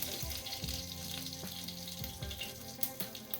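Finely chopped ginger and green chillies fry in a pan for millet upma, giving a steady close sizzle that runs throughout under a faint tonal background.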